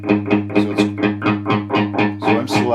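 An electric guitar runs through a Furman PQ3 parametric EQ while a narrow band is swept across the frequencies. Rapid, evenly repeated picked notes ring loud and up close, and their upper tone shifts as the sweep moves.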